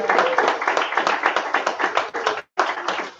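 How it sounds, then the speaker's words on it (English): A small audience at a live poetry event in an underground venue claps for the hosts, close rapid clapping with a brief gap near the end before it resumes. "let's give a round of applause to them"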